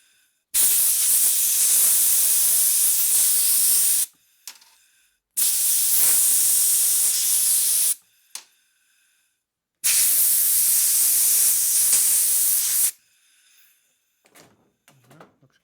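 Compressed air blasts from a shop air nozzle blowing off cam parts from a 1974 Harley-Davidson 74ci Shovelhead racing engine, three long loud hissing bursts of about three to four seconds each, separated by short pauses with faint clatter.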